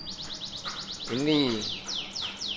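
Canary of the loper type, a contest-winning show bird, sings rapid repeated chirps and sweeping whistled notes near and clear, with a brief spoken word over the song.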